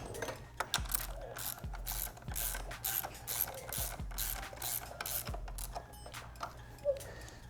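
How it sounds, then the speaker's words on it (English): A ratchet socket wrench with an extension clicks rapidly while installing frame sliders on a 2017+ Yamaha FZ-09 motorcycle, in repeated short bursts of close, crisp pawl ticking. "for this installation, I will need a little extension for my socket"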